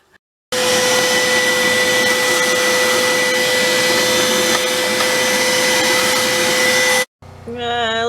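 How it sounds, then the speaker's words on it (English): A vacuum cleaner sucks cobwebs out of a space near DC power wiring: a steady, loud, close roar with a constant whine that starts abruptly, runs unbroken for several seconds, then cuts off, followed by a brief falling motor tone as it spins down. "I think I'm going to go ahead and bring the vacuum in here and suck some of those cobwebs out of there"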